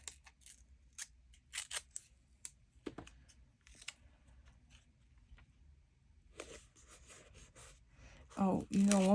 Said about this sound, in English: I'm going to tear out each word.